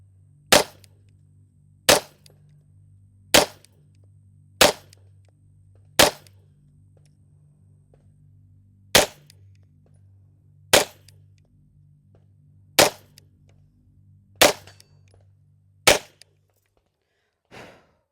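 A MAC9 DS Comp 5-inch pistol fitted with a Holosun 507 and Surefire X300 fires ten sharp, loud shots at uneven intervals of one to three seconds, each crack standing alone over a low background hum.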